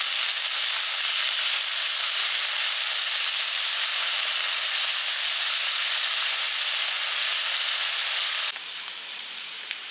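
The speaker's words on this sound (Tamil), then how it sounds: "பிரண்டையை வந்து நல்லா எண்ணெயிலே வதக்கணும்" Pirandai (adamant creeper) sautés in hot oil with a loud, even hiss and sizzle that runs continuously, then drops in level and thins out near the end.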